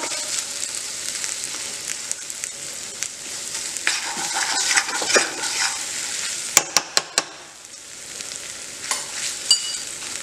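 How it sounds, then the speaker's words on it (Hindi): Khoya roasting in ghee in a pan over low gas, stirred constantly: a soft, continuous sizzle under scraping strokes, with a few sharp clicks of the spoon against the pan near the end. "हाथ हमने लगातार चलाते रहना है नहीं तो हमारा खोया जो है नीचे लग जाएगा"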